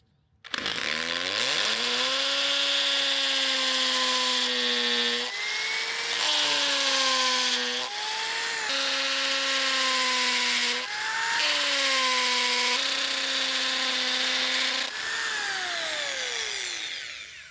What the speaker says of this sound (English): I'm actually going to drill a small one first, then a medium, and then finish up with this one.